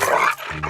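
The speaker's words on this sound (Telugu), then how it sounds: "ఇది కరిచే కుక్క అస్సలు అరవదు." A dog in a movie comedy scene gives a short, close, rough growl lasting under a second, with no talk over it.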